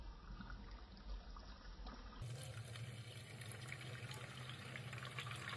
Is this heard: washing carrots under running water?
yes